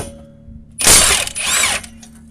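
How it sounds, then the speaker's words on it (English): A Milwaukee impact wrench rattles off a wheel bearing bolt on a Prius rear hub in two loud, close bursts of hammering, separated by a brief pause. "Got me a big old Milwaukee impact. You can do this by hand. I'll take off these 4 bolts."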